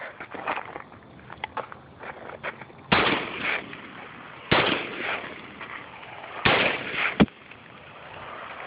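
An AR-15 rifle fires at night outdoors, with four sharp, loud shots spaced a second or two apart, separated by quieter rustling and shuffling.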